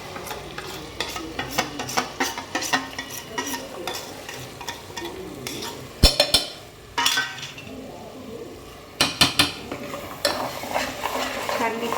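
Tomato and paste frying in a pan while a utensil stirs and scrapes it, repeated clinking strokes in uneven bursts over a steady sizzle, close up and with no talking.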